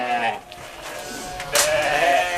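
Ewes bleat close by, a few overlapping calls with a louder cry near the end, amid shuffling movement in a farm pen.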